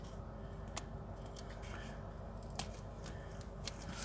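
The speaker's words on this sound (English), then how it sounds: "So I'll do that bit with the scissors." Scissors snip through paper in a handful of sharp, crisp cuts spread unevenly over a low, muffled background hum, trimming paper flowers.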